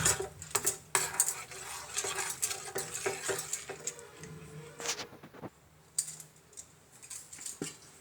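A spoon or whisk clinks and scrapes against a bowl while chocolate cream for a cake is mixed, rapid irregular metallic taps and stirring strokes up close, pausing briefly midway before resuming.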